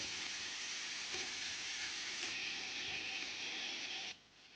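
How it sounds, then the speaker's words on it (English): Meat browning in a pot for gumbo, a steady broad sizzling hiss that runs evenly and then drops away abruptly near the end, no talk. "I'm going to start by browning all my meat."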